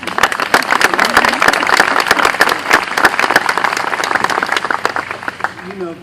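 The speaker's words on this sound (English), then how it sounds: "I'm not used to that applause" Audience applause at an outdoor statue unveiling for Frederick Douglass, steady dense clapping from a sizable crowd sustained throughout, loud and close, tapering slightly at the end.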